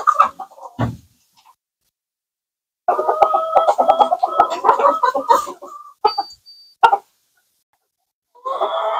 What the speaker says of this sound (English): let's go catch some chickens, boys